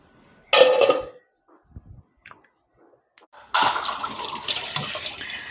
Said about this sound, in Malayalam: ഇപ്പോൾ ചെമ്മീനൊക്കെ കട്ട് ചെയ്യുന്നതിന് മുന്നായിട്ട് കുറച്ച് പാത്രങ്ങളൊക്കെ കഴുകാനിരിക്കുന്നു.